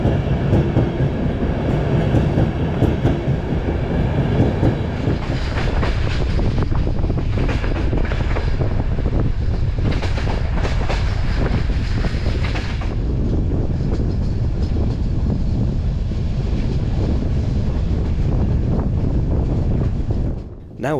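A deluxe sleeper train running from Turkey to Bulgaria gets underway again after a delay, giving off a loud, continuous rumble and rattle of wheels on track with steady clickety-clack and wind buffeting throughout.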